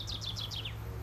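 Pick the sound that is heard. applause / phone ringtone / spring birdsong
spring birdsong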